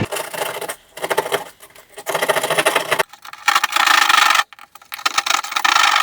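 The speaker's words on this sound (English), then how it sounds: "Keyhole saw." A keyhole saw cuts through drywall in rough back-and-forth strokes, loud and close, broken by short pauses between bursts of rasping.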